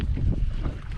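Strong gusty wind buffets the microphone with a heavy low roar for a brief moment.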